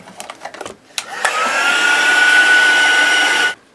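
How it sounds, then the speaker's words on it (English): Following some handling clicks and knocks, a heat gun starts up and runs with a loud, steady whirring blow and thin tonal whine as it dries black gesso, then cuts off abruptly after about two seconds. "So I'm just going to pop on my heat gun and just dry off that black gesso."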